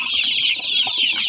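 Chickens, including young chicks, clucking and peeping close by, a continuous high chatter of overlapping calls.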